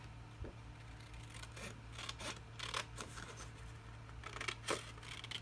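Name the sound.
cutting out a paper scrapbook piece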